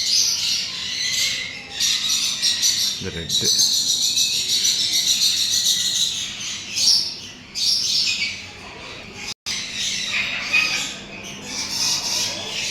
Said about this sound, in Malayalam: ഇത് വേറെ 2 തത്തകളാണ്.